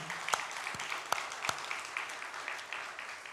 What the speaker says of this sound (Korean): 우리 한번 하나님 앞에 모든 영광을 돌리는 마음으로 박수 하나 영광 돌리겠습니다.